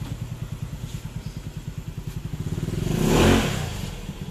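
A Yamaha Mio scooter with a stock carburetor runs at a steady, rapid idle putter, then the throttle is blipped for a smooth rise and fall in engine roar before it settles back to idle, close and alone.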